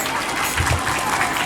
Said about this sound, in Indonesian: Udah, tepuk tangannya banyak, dia menang ya.